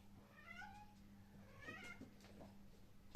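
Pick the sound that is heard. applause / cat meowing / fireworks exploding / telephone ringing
cat meowing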